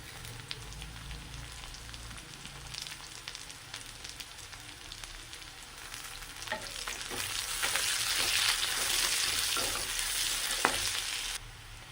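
Chopped onion, ginger and garlic sizzle and fry in hot oil in a pan for cabbage paratha filling, a steady close crackle broken by stirring scrapes, with the hiss swelling louder toward the end.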